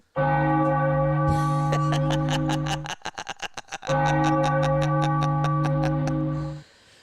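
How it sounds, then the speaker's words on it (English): A large bell rings steadily at a baseball ballpark after a Phillies home run, with loud, repeated even strokes that pause briefly and then resume, ringing out alone without talk. "So Merrifield rings the bell, and the Phillies lead it 7-0."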